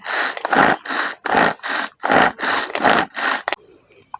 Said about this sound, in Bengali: মুখ দড়ি ধরে এইভাবে করে টানতে হবে তাহলে খুব সুন্দর কিন্তু বাটা হয়ে যাবে